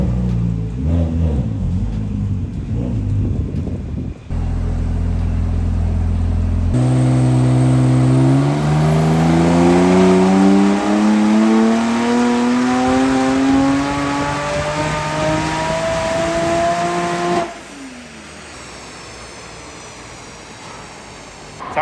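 A turbocharged Porsche 997 engine revs hard, pitch climbing steadily through a long sustained rise before dropping back, loud and close with no talking.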